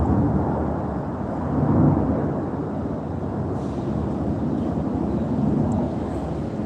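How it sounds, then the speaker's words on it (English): An airplane flying overhead makes a loud, continuous low roar that fills the whole stretch, swelling slightly early on, then holding steady. "this plane's going by"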